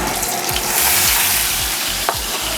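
Pork belly frying in a lot of oil, a dense, continuous sizzle and crackle up close, with a few stirring scrapes and no talking.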